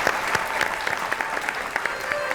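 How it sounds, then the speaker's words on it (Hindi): Studio audience applause on a talk show, a loud, continuous spatter of many hands clapping close and full throughout the short stretch. "जोरदार तालियां।"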